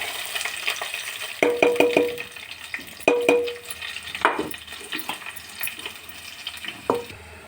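Chopped onions and green chillies dropped into hot oil with mustard seeds, cumin and curry leaves for a small fish curry: a steady close sizzle with sharp bursts of spattering and stirring scrapes.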